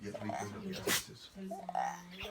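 One abrupt, breathy sneeze from a person giving a Spanish-language philosophy lecture, loud and close, with speech just before and after it.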